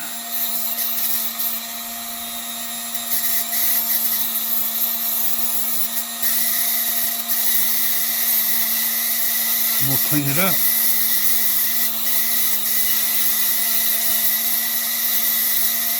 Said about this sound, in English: Dremel's making that noise because I'm holding my flex shaft at a bad angle